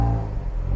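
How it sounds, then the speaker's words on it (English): V8 engine of a Land Rover Defender L663 fitted with a quad exhaust, revving close by with a steady, loud, deep drone for under a second. "give it a bit of a rev, Tyler."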